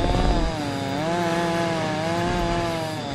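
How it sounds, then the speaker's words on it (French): Buzzing two-stroke motor of a lawnmower in the video game LEGO Jurassic World, a steady loud drone with a wavering pitch held throughout, no talk over it. "Maintenant c'est la tondeuse."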